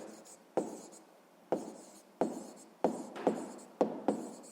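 Pen or pencil writing on paper during a sixth-grade maths exercise, with about seven distinct strokes and taps in an uneven rhythm, close and quiet.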